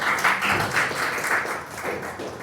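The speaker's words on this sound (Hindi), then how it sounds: "आप लोगों की तालियां कमजोर नहीं होनी चाहिए।" An audience claps at a live Hindi poetry and shayari recital, a dense burst of applause that pulses and swells for a few seconds before easing slightly.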